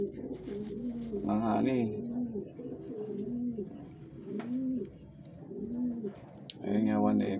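Racing pigeons being given honey before a derby coo close by in repeated throaty bursts, while someone talks quietly among them.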